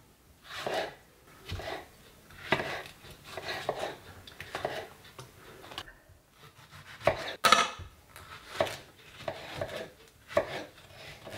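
Tomatoes are chopped with a knife on a cutting board for canning, a run of close, rhythmic thuds and slicing strokes in quick bursts, with a brief pause midway and no talking.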